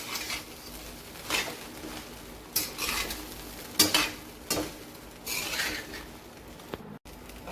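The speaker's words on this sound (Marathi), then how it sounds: "मीठ मिक्स करून घ्यायचे पूर्ण पोह्यांमध्ये." Salt being stirred through poha in a pan, quiet scraping spatula strokes with occasional louder clinks against the metal, close and unhurried, a faint sizzle underneath.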